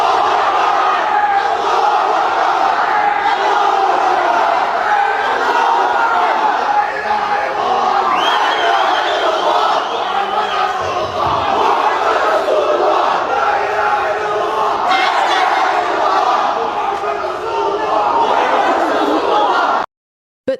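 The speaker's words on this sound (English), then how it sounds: "The Islamic protesters took to the street chanting chants like Allahu Akbar" A large protest crowd chants and shouts "Allahu Akbar" together in a continuous, loud roar of voices outdoors in Australia, ending abruptly.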